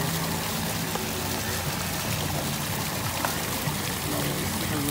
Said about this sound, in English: Right here by the waterfall.